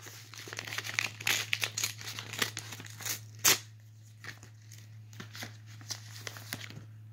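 A fan mail envelope holding a couple of trading cards is torn open and its paper crinkled, with a run of close, dry rips and rustles and one sharper tear in the middle, alone without talk.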